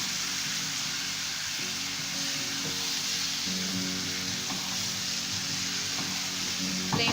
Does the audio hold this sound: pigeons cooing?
no